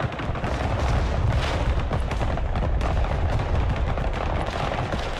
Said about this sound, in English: I've got artillery going on their tanks now